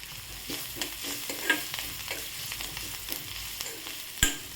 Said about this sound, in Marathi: हे छान परतून घ्यायचं मिश्रण।